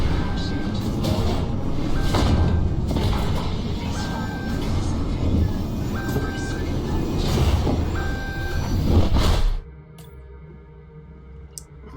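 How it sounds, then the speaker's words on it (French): Inside the video game Subnautica 2, an alarm beeps in regular short tones every couple of seconds over a loud mechanical rumble that cuts off abruptly near the end. "l'alarme, je l'ai bien entendue"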